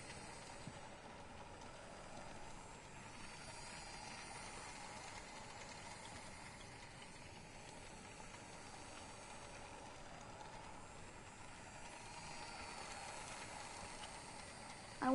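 A toy train on model tracks in the Life is Strange 2 video game keeps up a continuous ratcheting, gear-like clatter at an even moderate level throughout, with no voices.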